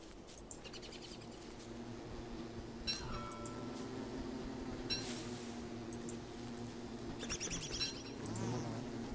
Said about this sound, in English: We'll leave the bees alone.